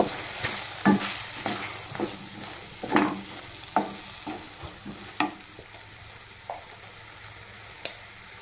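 Tomatoes with turmeric and coriander powder fry in a pan, a soft sizzle under repeated close spoon scrapes and knocks at an uneven rhythm, no voices.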